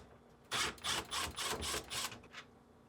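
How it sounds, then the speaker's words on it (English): A 1/4 inch nut driver backs out the two screws holding the front deli pan cover on a GE refrigerator: a close run of about six quick, raspy ratcheting bursts, then quiet. "Using a 1/4 inch nut driver, remove the 2 screws holding the front cover in place."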